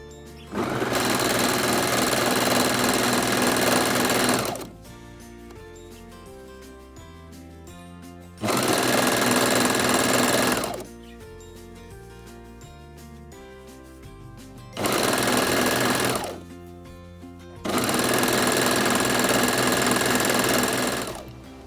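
A sewing machine stitches a dress bodice to its skirt in four loud, steady bursts of rapid mechanical chatter, separated by quieter pauses while the fabric is repositioned.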